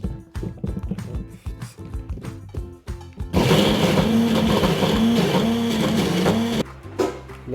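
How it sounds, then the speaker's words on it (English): A blender motor kicks on midway through a batch of spicy guacamole and roars loudly for about three seconds with a wavering pitch, then cuts out, after a stretch of rhythmic clattering and knocking in the kitchen. "Put the blender back on"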